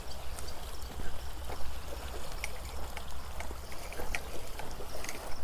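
Small waves wash steadily against the shore of a quiet camping area, a continuous close rushing and lapping with low rumble underneath and no voices.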